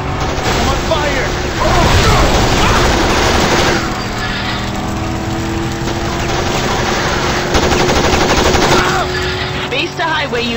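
Rapid machine gun fire in the Road of the Dead driving shooter game, loud continuous bursts over roaring engine noise, with shouted voices mixed in.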